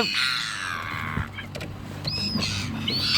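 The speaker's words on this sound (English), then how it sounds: "Seagulls, behave." Seagulls calling near someone eating outdoors, a few harsh squawking cries with softer calls trailing after, moderately close and alone without talk.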